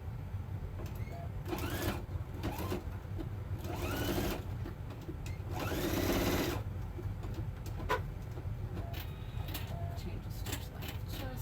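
Sewing machine stitching bunny ears onto a basket, a close mechanical whir running in several bursts with clicks between, over a constant low hum.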